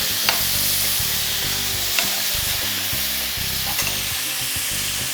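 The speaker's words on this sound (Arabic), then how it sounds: "كما راكم تشوفوا راه هو يتقلى" Chicken breast and onion fry in a pan, giving a steady, loud sizzle with occasional clinks and stirring noises and no speech.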